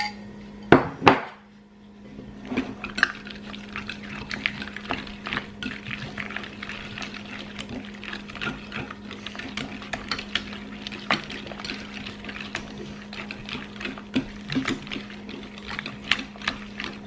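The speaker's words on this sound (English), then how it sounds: "now I am going to mix mascarpone cheese and custard together" Mascarpone cheese and custard are mixed together in a bowl for tiramisu. A steady hum runs under repeated light scraping and clinking against the bowl, with a couple of sharper knocks at the start. No one talks.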